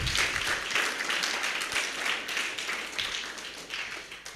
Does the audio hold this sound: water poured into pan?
no